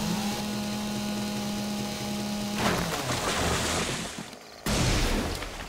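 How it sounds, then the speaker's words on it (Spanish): A chainsaw chews through wood in the survival game 7 Days to Die, a loud sustained buzzing rasp with a steady engine hum that breaks off briefly near the end before the cutting noise returns at full strength. "se ve un poquito más rápido con la motosierra"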